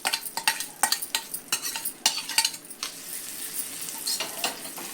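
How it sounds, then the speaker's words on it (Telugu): Spoon stirring a hot tempering of dried red chillies and curry leaves into allam chutney for pesarattu, giving a string of close, irregular scraping and clinking strokes over a soft sizzle, with no voices. "ఇలా కలిపి పక్కన పెట్టేసుకుందామండి"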